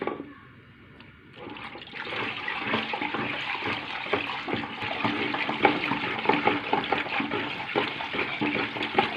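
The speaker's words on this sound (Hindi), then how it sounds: "थोड़ा थोड़ा करके हम NP9 डाल रहे हैं" NP9 is poured gradually into a phenyl concentrate mixture, giving a steady, close, liquid pouring and gurgling stream that starts after a brief quiet moment and continues unbroken to the end.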